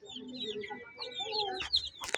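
A brooding hen sitting on her eggs gives soft, low clucks and murmurs close by, followed by a couple of sharper chirping calls near the end.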